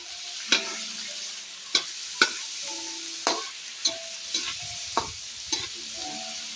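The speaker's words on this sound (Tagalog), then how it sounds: "Kailangan pakagisa natin yung sahog niya para maalis yung lansa, guys." Chop suey ingredients sauté in a pan, a soft continuous sizzle broken by about nine sharp metallic clanks of a spatula stirring against the pan at an uneven rhythm.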